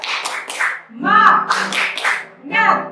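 A group of children at a Sunday school service chants a rhythmic clapping cheer in loud, close bursts, their voices rising together with claps mixed in over about three seconds.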